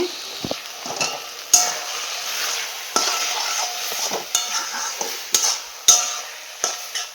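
Cooked kochu shak with potatoes being stirred in a pan, a gentle simmering sizzle punctuated by repeated sharp clanks of the spatula against the metal.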